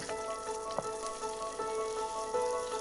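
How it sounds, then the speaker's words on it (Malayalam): Chicken curry masala is stirred in a pan, a faint sizzle and frying crackle running throughout with a few soft scrapes of the spoon against the pan, no talking. "നല്ലോണം ഇളക്കി യോജിപ്പിച്ച് കൊടുക്കുക"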